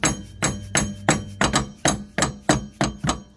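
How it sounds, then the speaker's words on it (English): A soft hammer strikes a CV axle shaft on a Honda CR-V, about ten evenly spaced, sharp metallic knocks with short ringing decay, close and loud with no talk. "Get yourself this type of hammer right here, kind of soft, and let's hit it."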